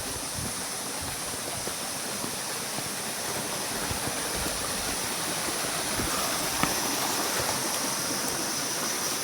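A small river flows steadily near a mountain trail, a close, continuous rushing wash of water with no voices.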